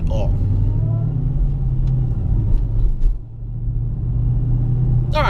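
A Dodge Challenger Hellcat drives along, its engine a steady low rumble throughout, dipping briefly before resuming, while a voice talks over it.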